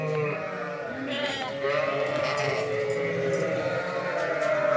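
Merino lambs bleating while being weighed on a sheep farm, several overlapping bleats held steadily throughout, close and fairly loud.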